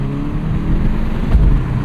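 A 2026 Volkswagen Golf GTI S, the base MK8.5 hot hatch, accelerating past roadside barriers, its exhaust a loud, steady, close engine drone with a deep throaty rumble and no talk.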